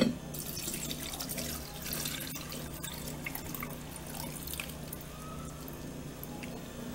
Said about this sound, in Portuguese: Agora eu vou coar o kefir.